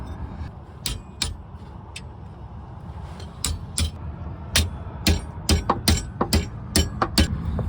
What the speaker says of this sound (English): then you hammer the ends up.